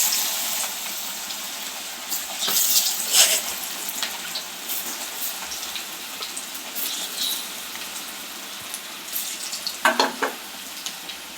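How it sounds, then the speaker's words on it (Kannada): Cauliflower (gobi) pieces deep-frying in hot oil over a high flame, giving a close, steady crackling sizzle that swells with louder bubbling bursts, with no talking. "ಇದನ್ನು ನಾನು ಎಣ್ಣೆಲಿ ಹಾಕಿ ಕರಿತಾ ಇದ್ದೀನಿ."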